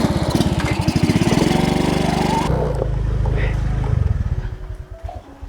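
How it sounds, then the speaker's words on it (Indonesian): Motorbike engine running and revving, with a loud, rapid pulsing chatter that cuts off abruptly partway through before a lower, rougher idle continues and fades, with voices over it. "ternyata motor aku udah bisa hidup nih"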